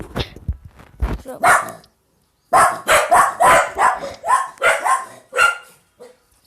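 Dogs in the farming game Hay Day bark in a quick run of sharp, evenly spaced yaps at close range, after a brief stretch of softer clicks and noises, with no voices.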